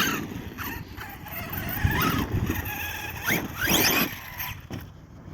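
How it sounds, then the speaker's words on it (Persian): An HPI Savage XL V2 RC car runs with a whining motor that rises and falls in pitch, with high squeals from its brakes, loud and close, in a few bursts. "صدای ترمز هم گوش کنید بالا"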